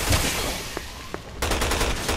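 Rapid gunfire from the Resident Evil 6 video game, Jake campaign, cuts in after a quiet stretch with a couple of faint isolated shots, then becomes a dense run of repeated bursts.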